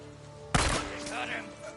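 A single sharp gunshot cracks out in Days Gone, loud and close, then decays into a brief ringing tail over a quiet game backdrop.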